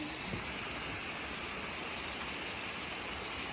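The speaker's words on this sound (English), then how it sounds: "Pretty wild waterfall." A waterfall beside a hiking trail in Arkansas gives off a steady, dense rush of falling water, even and unbroken throughout, heard from fairly close.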